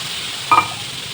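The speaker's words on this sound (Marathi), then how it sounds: "तवा पूर्ण तापून घेतल्यानंतर पुन्हा एकदा इथं आपण गॅस बारीक करून घेतलाय त्याच्यावर टाकूया थोडंसं पाणी" A small splash of water hitting a hot iron tawa on low gas before a rice flour dosa is made, giving a brief sharp sizzle that fades quickly against a quiet hiss.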